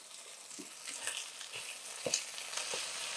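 Italian sausage and prosciutto fry in a pan, giving a continuous close sizzle with scattered pops and a few stirring scrapes, no voices.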